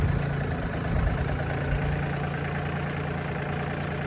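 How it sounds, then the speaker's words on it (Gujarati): A farm tractor's engine idles steadily nearby, a low continuous rumble with a faint knocking pulse, running throughout without voices. "તો હવે આપણે કાઢીએ ટ્રેક્ટરને બારું"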